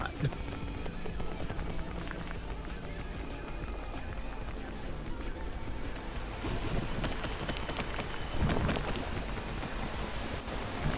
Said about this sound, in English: I fucking hate this rain.